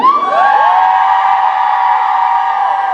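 A convention audience cheering during a panel, a sustained rising and falling wall of whoops and high shouts from a large crowd, loud and continuous.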